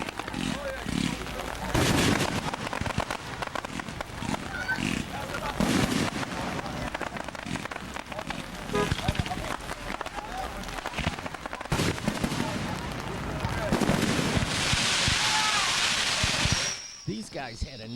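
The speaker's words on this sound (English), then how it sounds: "this is about as close as I can get to the fireworks" Fireworks bursting at a Camp Dearborn display, a dense run of sharp booms and crackles over about seventeen seconds, loud and continuous, with people talking and a crowd murmuring underneath before it cuts off at the end.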